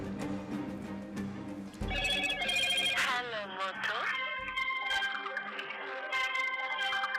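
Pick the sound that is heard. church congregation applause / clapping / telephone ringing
telephone ringing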